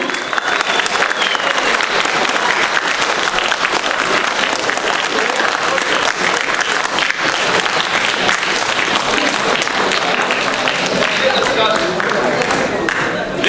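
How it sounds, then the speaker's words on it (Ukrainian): A theatre audience applauds loudly and steadily at the close of a student show's final performance of the school year, dense clapping sustained without a break. "Оплески ще раз не жалкуйте."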